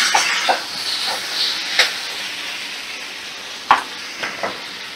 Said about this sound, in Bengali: ভালো করে কষানো হয়ে গেলে কুমড়ো চিংড়ি এবার আমি জল অ্যাড করে দেব।